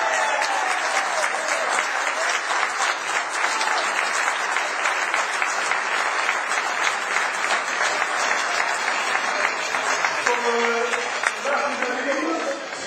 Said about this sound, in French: vos applaudissements pour Kevin Hatz